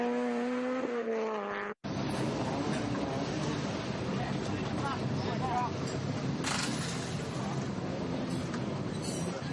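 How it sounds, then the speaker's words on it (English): Rally car on a gravel stage at the Ulster round of the British Rally Championship, engine roaring and bouncing over bumps, steady and loud throughout with a brief cut near the start, while a commentator talks over it. "That car's still a bit bouncy over these bumps"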